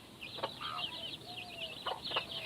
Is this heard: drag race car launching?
no